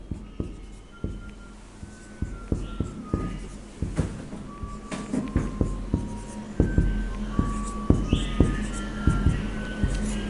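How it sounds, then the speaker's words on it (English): Pen or pencil writing out a multiplication table on paper, with repeated short scratchy strokes at a steady pace and faint background traffic and beeps underneath. "Now I am writing only the question alone."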